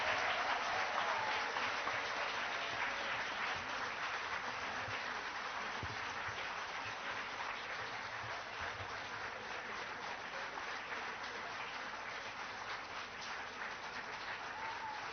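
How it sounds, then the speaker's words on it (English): Long, steady applause from an audience after a political speech, a dense uniform roar of many clapping hands heard at a distance, sustained without pause and only slowly easing. "I didn't want to disturb the applause."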